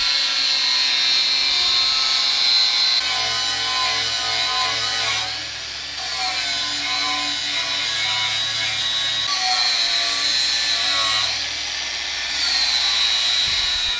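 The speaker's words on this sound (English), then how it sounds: "where did I leave the angle grinder? There. Angle grinder." An angle grinder runs steadily against a knife blade while sharpening, giving a loud, continuous high whine that dips briefly twice as the tool eases off the metal.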